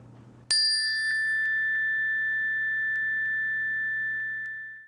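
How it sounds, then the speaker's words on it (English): A single meditation chime is struck once after a brief quiet moment, ringing out with a bright metallic tone that decays slowly over several seconds under faint background hum. "This happens to be a chime that I use to start my practice."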